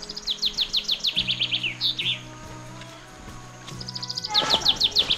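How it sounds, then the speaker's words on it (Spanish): Birds sing close by with rapid repeated chirping trills, answered by a lower rhythmic call in the background. "se puede oír claramente el sonido de las aves"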